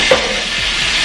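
Finely chopped tomato dropped into a pan of sizzling masala for a veg thali, giving a short soft splash followed by steady frying hiss and light stirring, close and moderately loud with no talking.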